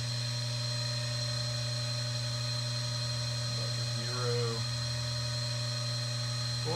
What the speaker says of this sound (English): I'm using the end mill to center it, and I'll put in my first depth of cut.